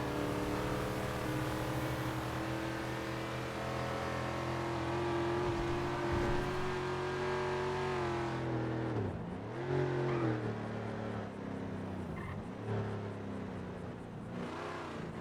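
Car engine in GTA V, a smooth sustained drone that climbs steadily, then dips and swells through gear changes and revs, fairly quiet and without voices.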